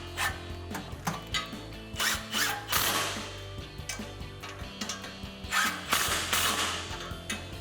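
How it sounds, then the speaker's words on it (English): Socket ratchet tightening 14mm bolts on a 4Runner cat-back exhaust, close clicking strokes mixed with metallic clanks, irregular rhythm with short pauses between pulls. "grab our 14mm socket to tighten these down"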